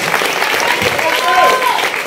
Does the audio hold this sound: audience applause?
yes